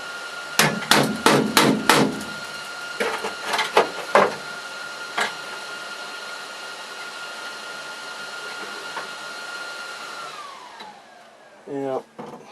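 Repeated hard hammer blows banging down metal during welding work on rusty steel, a quick burst of about five loud strikes, then a second irregular cluster, over a steady hum that fades out before a short clatter at the end.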